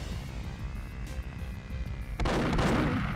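Gunfire in Perfect Dark Remaster: a steady game soundscape hums along, then a loud, dense burst of shots erupts near the end and keeps going without a pause.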